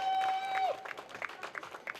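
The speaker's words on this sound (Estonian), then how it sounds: "teeme aplausi" An audience at a strongman competition in Elva breaks into brief, light applause after a steady electronic tone, the clapping sounding somewhat distant.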